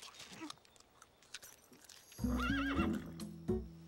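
A cartoon horse in an animated children's show gives a loud, wavering neigh up close, preceded by soft clicks and shuffling sounds, with a brief snort at the end.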